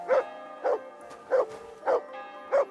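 A dog in the medieval video game Kingdom Come Deliverance 2 barks five times at a steady, evenly spaced rhythm, each short, clear bark close and distinct, with quiet gaps between.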